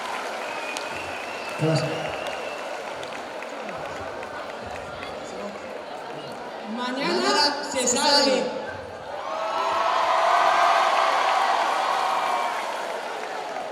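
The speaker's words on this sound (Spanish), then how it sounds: "Aplauso para segundo de bachillerato A." At a school Entroido carnival festival in 2020, a crowd applauds a second-year bachillerato student group, with a broad wash of clapping and cheering building near the end after voices chatter and call out.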